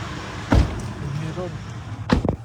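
Car doors thud shut as people climb into a car, two sharp slams about a second and a half apart, close by, with faint voices in between.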